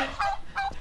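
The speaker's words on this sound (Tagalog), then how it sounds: "Nagalit yung pabo." An angry turkey gives short, sharp gobbling calls, two quick bursts close by in less than a second.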